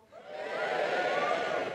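A stand-up comedy audience at a show cheers loudly as a crowd, a dense sustained roar that swells within the first half second and holds steady to the end.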